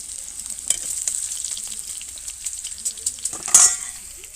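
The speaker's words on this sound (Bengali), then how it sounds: "দিয়ে দিচ্ছি একটু হলুদ দিয়ে আলুগুলোকে ভালো করে ভেজে নিচ্ছি" Close, crackling sizzle of potatoes frying in oil with turmeric, with a few spatula stirs and a sharp metallic clink near the end.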